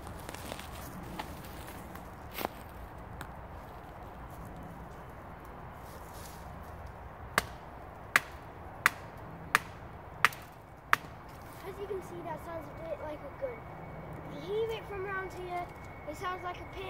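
Axe-like tool striking a tree stump in a forest, producing about five sharp knocks in quick succession partway through, over steady outdoor background noise with talking around it.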